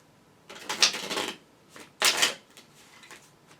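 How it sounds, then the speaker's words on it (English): Tarot cards are shuffled nearby in two quick, crisp riffling bursts with a short pause between them, and nobody speaks. "I'm just going to be silent as I shuffle the cards"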